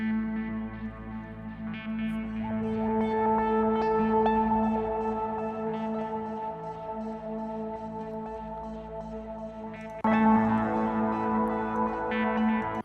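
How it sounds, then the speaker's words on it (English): Experimental ambient electronic music plays alone: layered sustained synth drones with shimmering echoed overtones, swelling gradually and brightening with a fuller texture near the end. "some amazing experimental ambient music"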